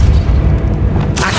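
A Depulso spell goes off in the video game Hogwarts Legacy, a loud deep booming blast with rumbling low end that ends in a sharp bright burst near the end.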